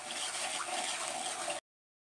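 Water with half a cup of sugar heats in a pan for bread halwa and begins to boil, giving a steady, close, bubbling hiss for about a second and a half before it cuts off.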